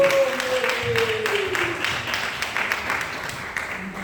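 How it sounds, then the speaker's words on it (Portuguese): Congregation clapping at a church worship service, a fairly loud scattered patter that carries on briefly while a voice rings out at the start. "Uma salva de palmas para o nosso Deus que Ele merece"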